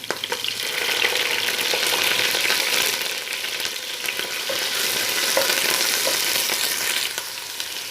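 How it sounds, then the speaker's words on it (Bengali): Ginger garlic paste fries in a pan with lightly fried onions, giving a steady, close sizzle and hiss with small stirring scrapes and no talk. "আদা রসুনের পেস্টটা হালকা ভেজে নিব"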